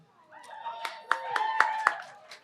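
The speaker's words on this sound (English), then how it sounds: "Significantly less claps for yeah, Ciara." A small live audience gives sparse, scattered clapping that builds to a few sharp claps and trails off quickly, with talking and a voice mixed in.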